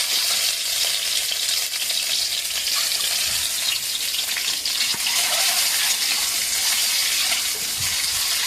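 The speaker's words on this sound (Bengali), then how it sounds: "এবারে ডিমটা ভেজে নেব।" Egg frying in a pan with turmeric and salt, a steady close sizzle and crackle of hot oil running unbroken throughout, with no talking.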